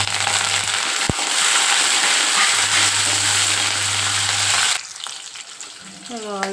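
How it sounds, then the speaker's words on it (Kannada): Green chillies and curry leaves hit hot tempering oil with mustard seeds and chana dal, giving a loud, steady crackling sizzle with a sharp pop early on. The sizzle drops abruptly near the end, and brief talk follows. "ಹಸಿರು ಮೆಣಸಿಕಾಯಿ ಮತ್ತು ಕರಿಬೇವು ಸೊಪ್ಪು ಹಾಕೋತಾ ಇದ್ದೀನಿ"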